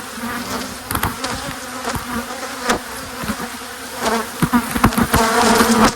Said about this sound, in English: lots of angry bees bouncing off the camera here